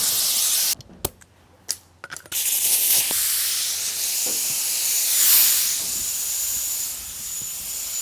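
Spray gun laying a light tack coat of paint on the rebuilt bed of a 1989 square body crew cab, a steady loud hiss broken by brief pauses and trigger bursts early on, then continuous spraying.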